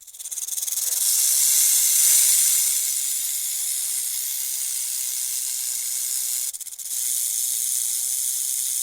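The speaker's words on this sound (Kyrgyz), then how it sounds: "Булбул менен жылаандын үнү экен." A snake hisses in one long, steady, airy rush that swells early, then holds level, with a brief dip near the end; no voices are heard.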